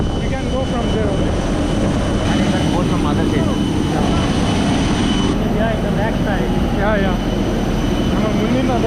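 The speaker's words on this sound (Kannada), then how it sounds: "ಇದೇ ಮೊದಲ ಬಾರಿಗೆ ಇಷ್ಟು ಸಮೀಪದಿಂದ ನಾನು ಏರೋಪ್ಲೇನ್ ನೋಡ್ತಾ ಇರೋದು" Steady, loud roar of an airplane engine close by at an airport, continuing without a break under overlapping voices for the whole stretch.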